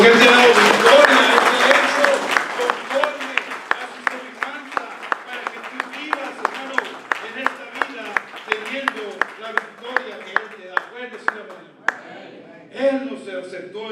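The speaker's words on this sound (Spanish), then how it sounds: "yo quiero que tú des un aplauso a Dios porque Él te ha dado victoria." A church congregation applauds, starting as a dense burst of clapping that thins into sharp, regular rhythmic claps, with singing or voices continuing underneath.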